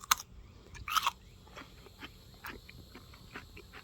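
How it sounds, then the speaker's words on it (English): Crunching bites into a homemade kosher-style pickled cucumber, heard close up: two sharp crunches early on, then quieter rhythmic chewing. "It's got a really good crunch to it too here."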